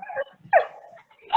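A voice imitates a dog, giving a few short yipping barks and a whimper in quick succession, close and fairly loud.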